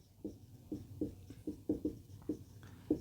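Marker or chalk strokes on a classroom board during a language lesson, a series of about eight short scratchy squeaks spaced roughly every third of a second, fairly faint with no talking.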